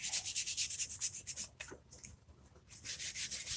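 Shower trim being scuffed with sandpaper before custom painting, quick rhythmic back-and-forth rubbing strokes up close, pausing briefly midway then resuming, with no voices.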